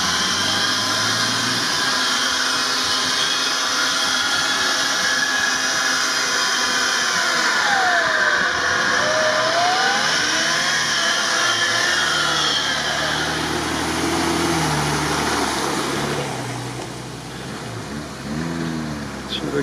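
An off-road SUV's engine revs in low-range gear on rough terrain, a steady loud drone with rising and falling pitch sweeps midway, fading slightly near the end amid outdoor noise and faint voices.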